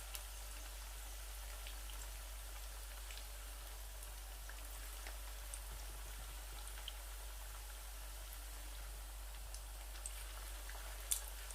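Potato rings frying in hot oil, a steady fine crackling sizzle with scattered pops running throughout, close, even and unbroken, with no voices.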